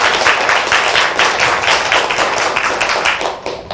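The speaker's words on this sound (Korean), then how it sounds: "박수 한번 주십시오." Audience clapping at a live talk event, a steady, dense burst of many hands close by that runs through the whole stretch without any speech over it.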